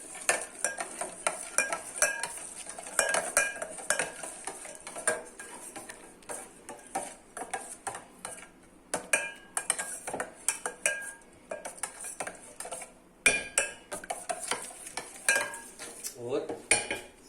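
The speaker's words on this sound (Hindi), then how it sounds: "इस तरह से अब इस मैरिनेशन को मिक्स करेंगे।" Meat marinade being mixed by hand in a bowl gives repeated wet squelches and soft clinks against the bowl, an irregular close-up rhythm with occasional brief pauses.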